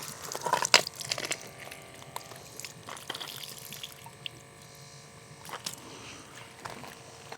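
Tap water runs softly into a small test tube as it is rinsed, with a few brighter splashes and drips near the start, then a faint steady trickle; quiet and close.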